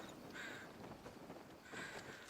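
Crows cawing in the video game Final Fantasy XVI, two short harsh bursts separated by a pause, fairly faint over a low background bed.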